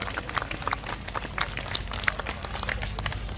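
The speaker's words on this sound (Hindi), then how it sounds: "एक बार ताली अपने लिए बजाइए" An audience at a Hindu gathering claps steadily, a dense, continuous patter of many hands at moderate loudness with no voices over it.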